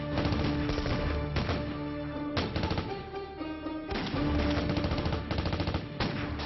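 A film shootout: rapid bursts of gun and machine-gun fire crackle in repeated volleys over a droning music score, the shots loud and close.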